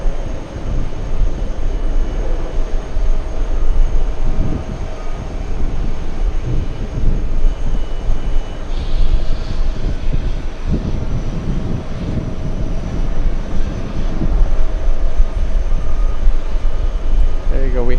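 An American Airlines airliner on final approach into JFK, inbound from Heathrow, gives a steady, broad, rumbling roar that holds for the whole stretch, with voices at times mixed in.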